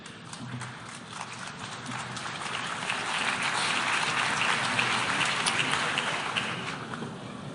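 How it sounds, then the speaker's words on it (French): Sustained applause from a large assembly hall audience at the United Nations General Assembly, a dense steady patter of clapping that swells toward the middle and holds without voices. "Je vous remercie pour vos applaudissements"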